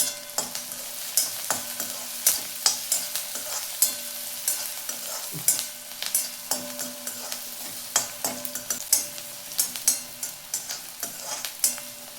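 Onion frying with salt in a hot pan for sandge bhaji, a soft steady sizzle broken by repeated scraping stirs of a spoon against the pan, close up with no talking.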